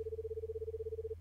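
A single steady electronic telephone tone sounds at one pitch for about a second over a low hum, inside the horror video game Minabari no Kizuna.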